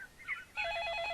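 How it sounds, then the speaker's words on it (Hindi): A telephone bell starts ringing partway through, in a repeating, fairly loud trill after a short stretch of faint room sound. "अरे बज गया फोन।"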